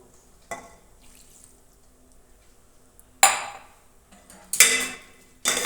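A few spoonfuls of water go into a pan of cauliflower curry, heard as three short splashy clinks of a metal spoon against the pan, close and separated by quiet pauses.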